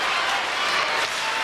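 Crowd cheering at the 1988 Calgary Olympics USA versus USSR ice hockey game, a broad sustained roar of noise and applause filling the arena, steady and loud throughout.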